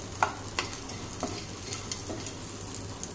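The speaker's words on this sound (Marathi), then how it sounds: "मस्त असं मीडियम गॅसवर कांदा सुद्धा आपल्याला ब्राऊन करून घ्यायचा आहे।" Chopped onion fries over a medium gas flame for a South Indian chutney, with a constant light sizzle broken by repeated scraping stirs of a spoon against the pan.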